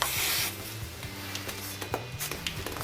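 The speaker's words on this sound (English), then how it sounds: "I'm always helping myself with this unlocking spray, so I can do this job easier" Penetrating unlocking spray hisses onto a rusty brake disc and caliper on a Smart 453 EQ: a short, close, loud spray burst, then quieter scraping and handling sounds.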